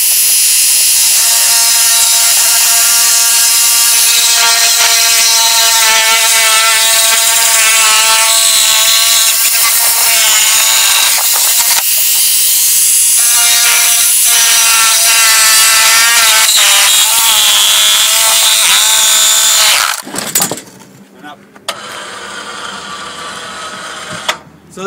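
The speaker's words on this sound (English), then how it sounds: "a couple demonstrations of the reciprocating saw being able to plunge cut and then slice off another piece of wood" A reciprocating saw plunge cuts into wood and slices off another piece, its loud, close, buzzing whine running steadily for about twenty seconds before stopping, then fainter handling noise follows.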